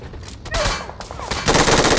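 A quick burst of close, loud gunfire in PUBG Mobile, with several rapid cracks that swell into a dense volley near the end.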